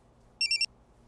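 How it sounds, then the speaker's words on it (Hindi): A telephone rings in a single short burst of rapid, bright electronic trills, loud and close against a quiet background. "अरे फोन किसका आ गया?"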